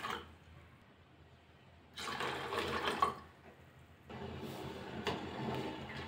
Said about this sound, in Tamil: 2 கப்பு தண்ணி சேர்க்குறேன்.